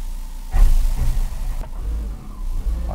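A car drives forward onto a brake tester at a vehicle inspection hall to test the rear-axle handbrake, its engine rising loud and close with a revving surge, then settling into a steady rumble with a sharp knock midway.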